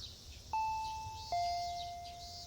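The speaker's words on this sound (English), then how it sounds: "I heard the doorbell ringing." A two-tone electronic doorbell in the video game Higurashi chimes once, ding then dong, clear and ringing over a low hum.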